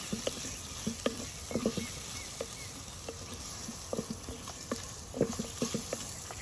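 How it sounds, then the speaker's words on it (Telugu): Chopped onion cooks in hot oil in a pan for a mutton masala curry, giving a soft steady sizzle broken by light scraping and stirring clicks throughout. "కొంచెం ఉల్లిపాయను కూడా నూనెలో ఒకసారి అలా మగ్గి పెట్టేసుకొని"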